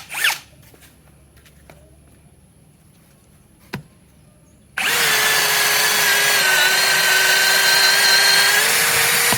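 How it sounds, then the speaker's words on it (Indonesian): Cordless brushless Tekiro XV 20V drill boring a 13 mm auger bit into mahogany 12 cm thick, in drilling mode: a few faint knocks, then the motor whines up loud and grinds steadily through the wood. "Untuk uji coba pertama saya menggunakan mata bor auger 13 mm ya."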